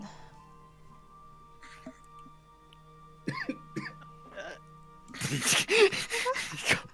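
Faint background chatter, then a burst of harsh coughing near the end of the clip.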